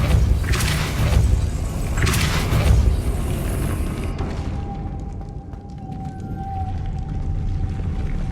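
The Depulso spell is cast in Hogwarts Legacy on PS5: deep, resonant booming whooshes with a low groaning quality, followed by a quieter, creaking magical tail.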